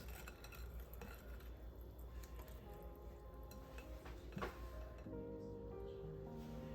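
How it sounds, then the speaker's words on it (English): Eggs and melted butter for a coconut pie filling are stirred in a bowl, a faint, steady scraping and tapping of utensil against dish with one brief louder clink partway through. "Put in a little bit and mix it up"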